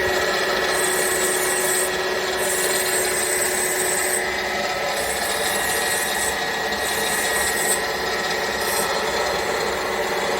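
Metal framework of a PFM dental crown being trimmed with a rotary tool, making a continuous loud grinding, rasping whine with small pitch shifts and no pauses.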